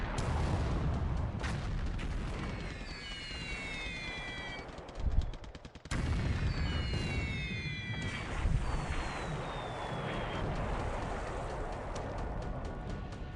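Ships taking hits in a WWII Pacific naval strategy video game, a steady stream of booming impacts and rattling gunfire-like bursts over a continuous rumbling bed, with no voices.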